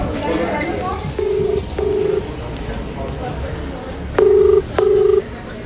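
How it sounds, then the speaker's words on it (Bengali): Phone ringback tone on an outgoing call to a number, two pairs of short electronic rings, the second pair louder, with room noise and faint background voices between them. "রিং হচ্ছে।"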